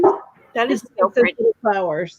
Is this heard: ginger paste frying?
no